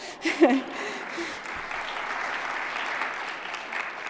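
Applause breaks out from a conference audience at an annual meeting morning plenary, a short burst of clapping that peaks early and then settles into a steady patter.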